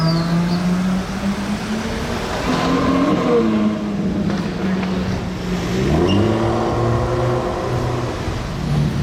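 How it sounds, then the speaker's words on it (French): A powerful V12 car engine with a Novitec exhaust revs and roars past at moderate distance, its pitch climbing and dropping through gear changes over a busy roadside background. "Ah c'est une 812 vitesses, je me disais j'entends un V12 arriver là. Échappement Novitec lui."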